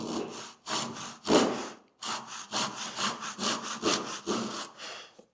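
A Japanese back saw rasps through wood along a knife line, about a dozen steady push-pull strokes in a regular rhythm after a brief pause, close and distinct in a quiet workshop.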